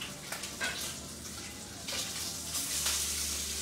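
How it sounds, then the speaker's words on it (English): Bacon frying and being moved around a pan, giving a continuous loud crackling sizzle that swells slightly as the strips are shifted. "I'm just going to keep moving this bacon around"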